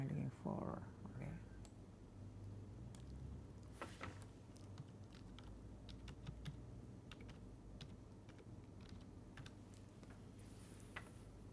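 Computer keyboard typing with quick, irregular key clicks at moderate volume throughout, under room tone, with a voice speaking briefly near the start.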